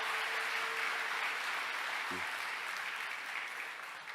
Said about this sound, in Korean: 우리 축복의 박수 부탁드립니다.